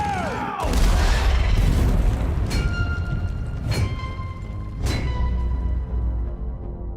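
Explosion in the video game Left 4 Dead: a deep booming blast that rolls on with a long low rumble, followed by a few sharp ringing metallic hits, loud and close with no talking.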